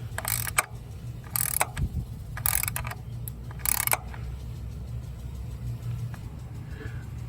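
Ratchet tightening a part on a car engine during a P0302 misfire repair, with several short bursts of quick clicking separated by pauses over a low background hum, close by.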